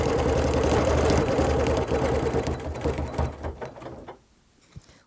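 A sewing machine runs steadily while stitching a quilt binding, giving a close mechanical whir with rapid needle chatter. It slows and stops toward the end, ending with a single faint click.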